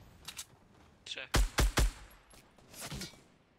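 Three sharp, loud gunshots in quick succession in the video game Fortnite, followed by fainter distant shots and a short burst near the end, with a voice speaking in between.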